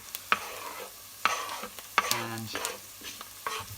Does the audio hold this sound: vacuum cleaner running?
no